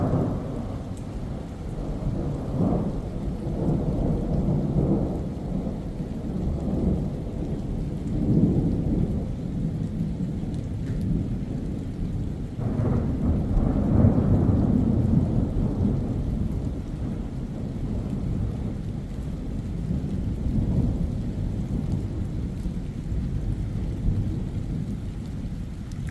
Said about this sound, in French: ça a pas mal d'éclairs au kilomètre carré là